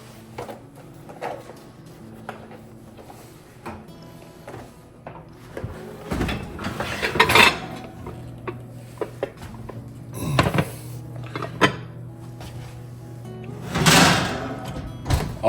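Meatloaf pan pulled out of an oven, with clunks and bangs of a door and metal pan, a few sliding scrapes and knocks, and an occasional whoosh, fairly close and without speech.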